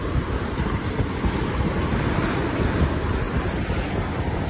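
Ocean surf breaking on Boracay Beach, a steady loud wash of waves mixed with wind noise on the microphone, continuous and without talking.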